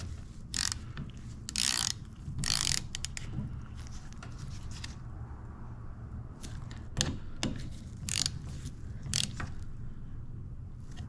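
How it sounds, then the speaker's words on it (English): A ratchet tightens the rear brake caliper bolts on a Ducati motorcycle, with several separate bursts of quick metallic clicking between quiet pauses, close and fairly faint. "Tighten your caliper bolts per your factory specs."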